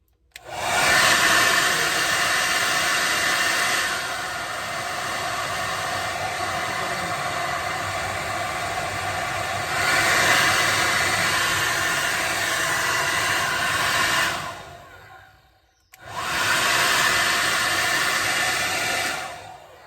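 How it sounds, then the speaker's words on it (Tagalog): An ionic hair dryer blows with a loud, steady whooshing hum, shifting in intensity, cutting off briefly, then starting up again. "Nakabili tayo ng bago nating hair dryer kasi mag-winter na."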